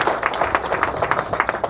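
An audience at a motivational seminar in Triprayar, Thrissur, claps for the speaker. The clapping is quick and rhythmic, with distinct close hand claps over a brief burst.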